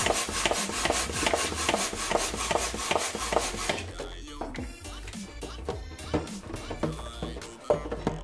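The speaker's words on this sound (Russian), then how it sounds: "Все, теперь раздуваем шар на 15 качков." A hand pump inflates a balloon with quick repeated strokes, a rapid rhythmic rasping that runs for about four seconds, then gives way to quieter rubbing and handling sounds, close by.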